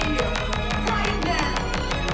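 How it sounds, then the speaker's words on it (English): Drum and bass bootleg drop, loud and dense, with fast regular drum hits driving a busy, distorted bass and synth wall without a break. "And then the drop is going to sound something like this."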